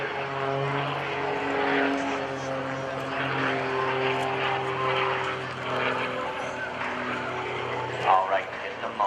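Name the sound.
Extra 300S aerobatic propeller airplane flying at airshow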